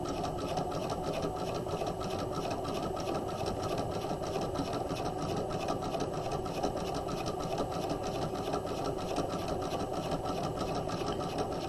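A sewing machine runs steadily, stitching down the side of a tote bag lining close to the edge, a continuous close buzzing hum with no pauses and no talking.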